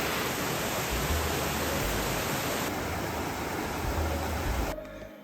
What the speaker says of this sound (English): First impressive waterfall.